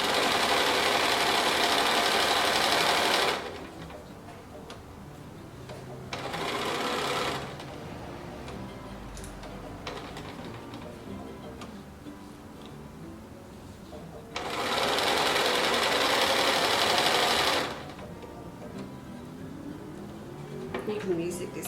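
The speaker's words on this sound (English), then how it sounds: "with these machines you can set it so it knows what you're sewing" A sewing machine stitching fabric comes in loud bursts of rapid whirring, about three seconds each, with quieter gaps between them where people talk.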